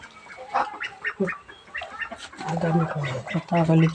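Two ducks quack repeatedly up close in loud, raspy bursts, the calls overlapping and growing busier toward the end.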